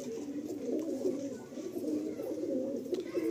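A white-eyed male Malbai pigeon coos in steady, low, throaty murmurs that run without a break, close and moderately loud.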